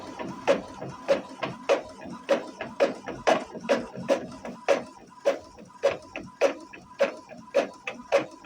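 A printer running a job, with a regular series of sharp mechanical clicks and thumps at about two per second, close and fairly loud, repeating through the whole stretch.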